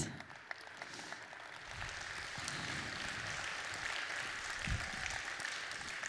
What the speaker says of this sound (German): So wird man mit Applaus empfangen